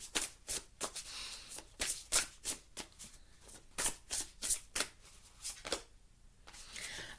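Tarot cards being shuffled by hand, a run of quick crisp riffling bursts in an uneven rhythm with brief pauses, close and fairly quiet, no voices.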